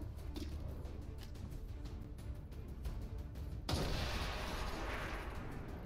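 In the video game XCOM 2: War of the Chosen, a sudden loud blast bursts in partway through, after a stretch of quieter rumbling, and its roar lingers and fills the rest of the clip.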